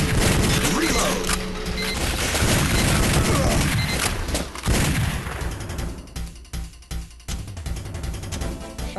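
Rapid gunfire from a plug-and-play light gun shooting game, a dense barrage of loud shots and booms that thins into separate sharp blasts toward the end.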